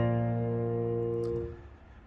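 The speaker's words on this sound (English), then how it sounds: "we're greeted with this tone, the European grand piano, which sounds like this." The European grand piano tone of a Roland LX-706 digital piano sounds a single rich low chord that sustains close and clear, then fades away over about two seconds, with no voices.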